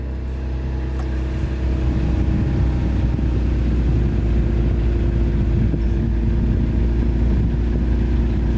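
Kia Stinger engine idling steadily after a cold start, a continuous low rumble with a faint exhaust note, close and alone without talk.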